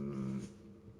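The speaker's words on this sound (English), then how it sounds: "There's the good doggy." A dog whimpers once in the medieval game Kingdom Come Deliverance, a short, soft, close whine that fades within about a second with no talk over it.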